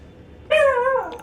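A single drawn-out, whining cry from a dog in Elden Ring Shadow of the Erdtree sounds loud and clear after a quiet start, sliding slightly downward, followed by a faint short yip.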